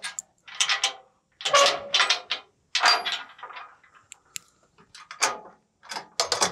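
A heavy side service door on a Tigercat 850 forestry roadside processor is worked open with a series of loud metallic clanks, latch clicks and rattles in close, irregular bursts separated by short pauses.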